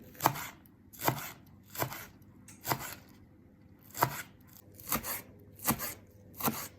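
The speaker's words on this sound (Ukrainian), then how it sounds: "а далі нарізаємо дрібненько зелену цибулю" Sharp knife chops through green onions strike a cutting board about eight times at an uneven, unhurried pace, close and crisp with quiet gaps between.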